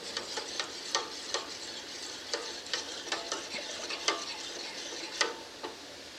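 A spoon stirring whipping cream into a butter chicken sauce in a pan, giving a steady soft hiss and sizzle broken by repeated sharp scraping clicks close up, with no voices.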